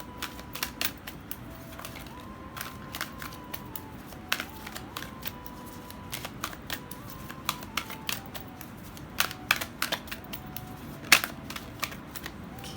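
A deck of cards is shuffled for a pick-a-card reading, giving a steady, close patter of rapid riffling clicks with occasional sharper snaps, and no voices.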